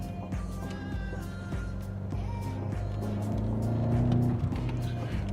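A BMW X6M (2017) engine pulls under acceleration, a steady loud drone that swells slightly toward the end, with road and wind noise throughout.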